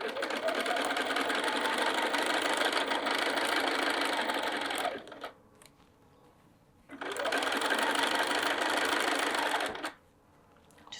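A sewing machine stitches a fabric town bag with steady, close motor whirring in two long runs, separated by a brief quiet pause.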